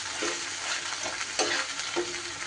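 Pointed gourd curry with beaten sour yogurt is stirred in a pan over low heat, a soft continuous sizzle broken by several scraping spoon strokes, one sharper knock near the middle.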